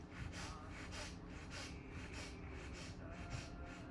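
Breath of fire yoga breathing: quick, forceful nasal exhales pumping in a steady rhythm of about two per second, close and continuous, with no talking.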